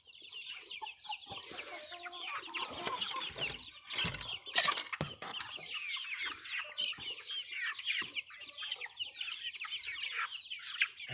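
A crowd of hungry chickens inside a coop clucks and chatters continuously at close range, with overlapping calls, a few sharp squawks and some brief wing flapping.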